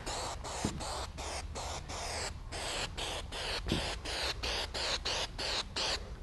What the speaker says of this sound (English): I just get some of my spray glue